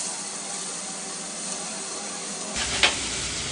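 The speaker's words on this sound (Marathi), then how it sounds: "तर हे अशा प्रकारे आपल्याला मध्ये टाकून फ्राय करून घ्यायचं आहे" Masala of chopped onions, tomatoes, crushed garlic, ginger and green chili frying in a pan, a steady close sizzle with a brief louder stir or scrape near the end.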